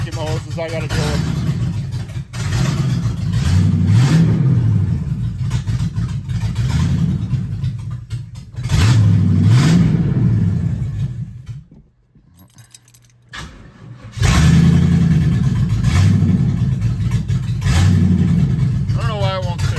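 A station wagon engine with suspected vacuum hose leaks runs loud and rough nearby, surging and sagging at idle, nearly stalling midway, then catching and running unevenly again.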